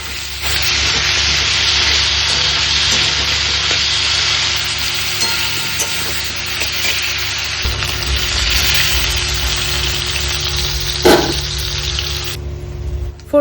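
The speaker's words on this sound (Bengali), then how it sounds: "ভাজার সময় একটু নুন আর সামান্য হলুদ, আর মিনিট 5-এর বেশি আলুটা ভাজবো না" Potato pieces fry in hot oil with salt and a little turmeric, a loud steady sizzle held for the whole stretch, with one brief clatter of a utensil near the end.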